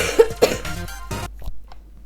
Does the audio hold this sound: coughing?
yes